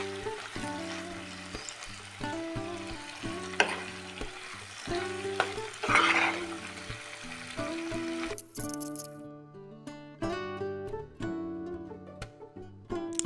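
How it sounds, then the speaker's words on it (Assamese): Fermented bamboo shoot and hot bhut jolokia chillies frying in a pan for a chilli pickle, giving a steady sizzle and occasional stirring scrapes beneath loud, continuous background music. "এতিয়া সুন্দৰকৈ ভাজি আছো আৰু অলপ সময় ভাজি লম"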